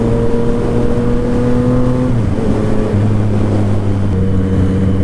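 A Yamaha FZ-09 motorcycle engine drones steadily and loudly while riding, its tone dipping and shifting as the revs change, with continuous wind rush underneath.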